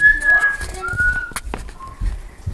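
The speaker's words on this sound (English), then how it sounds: "She's a starling." A pet starling calls up close with a lively run of whistles, chirps and short warbling notes, some high and clear, others brief and clicky.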